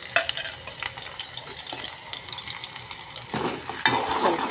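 Green chilies and onion fry in a pan with a steady close sizzle and light stirring scrapes, a brief watery splash near the start and the frying growing louder toward the end.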